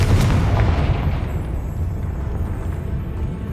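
The Confringo blasting spell in Hogwarts Legacy goes off as a single heavy explosion, a deep boom at the very start that rumbles and slowly fades over the following seconds, heard alone.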